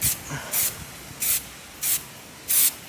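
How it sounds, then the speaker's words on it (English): Four or five short hissing bursts from a spray paint can painting a BB gun, each about a fraction of a second, separated by brief pauses, close and fairly loud. "when we start to spray"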